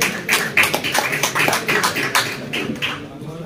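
Dense clapping from an audience at an award ceremony for a pigeon sports club's car cup in Kashmir, a steady stream of overlapping claps with no pauses, bright and sustained across the whole stretch.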